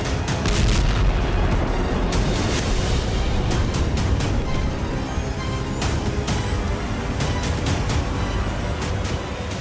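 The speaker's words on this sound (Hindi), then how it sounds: "जोरदार धमाके के साथ आसमान में बारूदी गुबार उठने लगा।" Continuous heavy rumbling roar with sharp cracks and pops scattered throughout, loud and dense, like a powerful blast and its aftermath, no voices.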